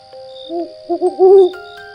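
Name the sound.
owl hooting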